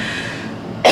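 A single short, forceful cough bursts out at the very end after a moment of quiet room tone, close and loud.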